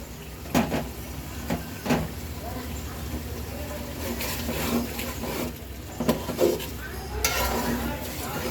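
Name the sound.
chicken being stir-fried with spices in a pan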